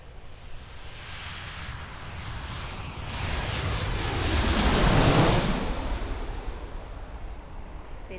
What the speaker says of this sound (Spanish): Se trata de el despegue de un avión en la cabecera de la pista.